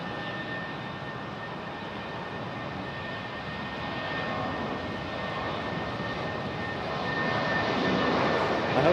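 A JetBlue airliner in Vacations livery taxis on the ground at Raleigh-Durham International Airport, its jet engines a distant, steady whine and rumble that swells gradually louder toward the end.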